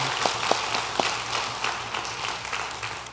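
A church congregation claps in praise after worship singing, a brief burst of dense, moderately loud applause with a few sharper individual claps at the start.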